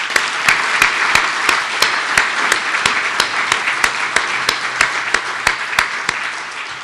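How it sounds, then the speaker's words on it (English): Sustained applause from an audience at an annual downtown development lecture in Wichita, loud and even, with crisp individual claps standing out in a regular rhythm before it begins to taper. "let's give them another round of applause"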